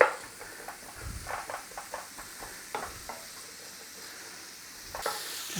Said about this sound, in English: I'm going in there with my garlic and onions. I'm going to give that a little stir.